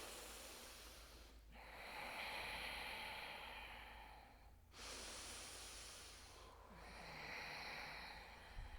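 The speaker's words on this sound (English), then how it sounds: "Breathe loud, breathe proud, breathe strong, breathe now." Loud, slow yoga breaths in a power yoga class: long rushing inhales and exhales that swell and fade in a steady cycle, close and breathy, with no talking.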